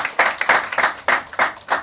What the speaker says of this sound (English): Massive round of applause, Irfan Khan, ladies and gentlemen.